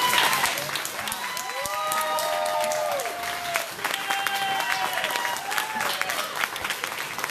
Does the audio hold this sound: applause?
yes